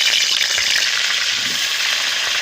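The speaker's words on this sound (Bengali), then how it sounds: "তো আলুগুলো ভেজে নেব।" Potatoes frying in hot oil in a wok: a steady, close hiss and crackle of sizzling with no talk.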